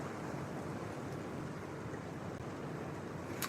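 Heavy rain pours steadily during a thunderstorm, a dense continuous wash of broadband noise with no gaps, fairly loud and unbroken throughout.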